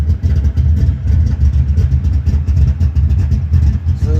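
A car engine fitted with a cheap aftermarket muffler idles close by, a steady low rumble with an even, throbbing pulse that holds without revving for four seconds.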